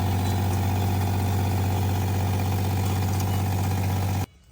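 A camper van water pump, a 40–100 PSI upgraded unit, runs with a steady loud mechanical hum and fine rhythmic pulsing, continuous and close, then cuts off abruptly near the end.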